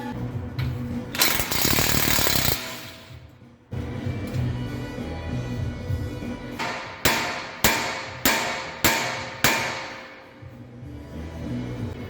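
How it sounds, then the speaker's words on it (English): A hammer whacks the steering knuckle of a Jeep Wrangler to free the tie rod during a ball joint job: a burst of noise, then five sharp, evenly spaced metallic blows close by, each ringing briefly. "you just have to whack the knuckle a few times with the hammer, just around this area to drop the tie rod"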